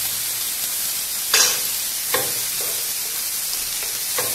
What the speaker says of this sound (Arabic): نحرك كذلك الريزوتو